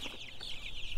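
One-week-old broiler chicks cluck and peep in a steady, busy chorus, close and continuous, with no talking over them.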